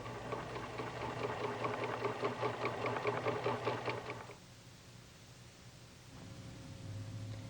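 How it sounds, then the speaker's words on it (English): Pfaff Expression sewing machine test stitching on fabric scraps, a fast rhythmic mechanical whir for about four seconds, then a quiet pause and a softer hum restarting. "Test sew on fabric scraps to get the proper results."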